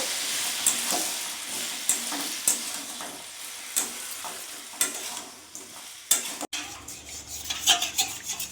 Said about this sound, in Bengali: এরই মধ্যে চিকেনগুলো দিয়ে দেবো ভালো করে একসাথে মিশিয়ে নেবো